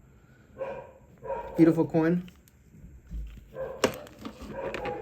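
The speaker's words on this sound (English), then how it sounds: "Sorry about the dog." A dog barks indoors in a few short, sharp bursts, close and fairly loud, mixed in with someone speaking.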